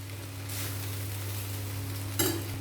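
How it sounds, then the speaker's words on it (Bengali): Vegetable fried rice is tossed and mixed in a hot pan, giving a steady low sizzle under a couple of brief scraping stirs, the last one a sharp clatter near the end. "সব উপকরণ একসাথে ভালো করে মিশিয়ে নেব।"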